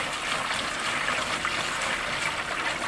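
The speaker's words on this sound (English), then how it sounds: "The water's going in here and the drain is open." Water runs steadily into a tank on a Roadtrek Popular camper van, a close, even hissing trickle with no pauses and no voices.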